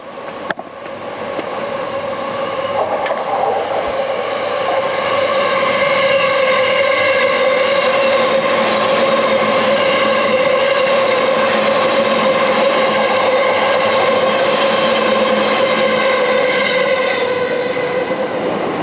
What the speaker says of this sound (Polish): Poczekajcie, jedzie kolejny pociąg.